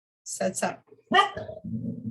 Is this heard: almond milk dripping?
no